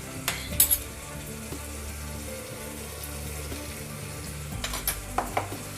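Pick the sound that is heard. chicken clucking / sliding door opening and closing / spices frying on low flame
spices frying on low flame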